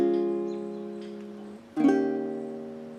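Three chords strummed one after another on a fretted string instrument, the first ringing and fading for about a second and a half before a brief pause and a fresh strum, alone with no voice.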